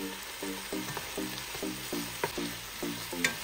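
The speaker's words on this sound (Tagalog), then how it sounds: "hintayin lang natin na maluto yung kamatis" Tomatoes frying in a pan, a steady close sizzle with a regular pulsing rhythm and a few sharper clicks near the end.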